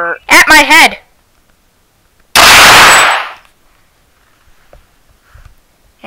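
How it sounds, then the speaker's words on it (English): A single loud gunshot blast that rings out and decays for under a second, following a short burst of talk and then quiet. "So I decide to fire the gun at my head"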